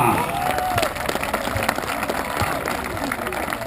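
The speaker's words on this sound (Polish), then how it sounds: "ja bardzo was proszę o gorące brawa dla Firmusa!" Warm applause from the crowd at the opening ceremony of a 3x3 basketball tournament, steady and dense clapping throughout, with voices mixed in beneath it.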